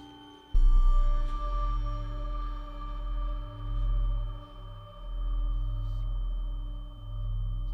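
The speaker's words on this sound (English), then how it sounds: "You should probably get that, Jim. It's Caitlin. She's calling you." A phone rings in a horror short film, a low, pulsing electronic ring with a steady tone that swells and fades in repeated waves, starting suddenly and continuing alone without talk.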